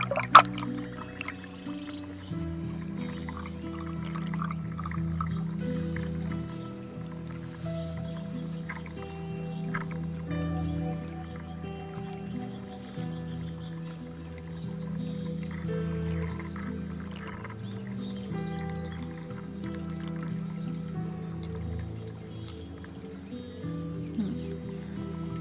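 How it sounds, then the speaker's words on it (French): Sea surge heard underwater while diving off a beach in January, a steady low churning rumble of wave motion with faint bubbling and clicks throughout, no voices. "Pour montrer aussi qu'il y a pas mal de vagues."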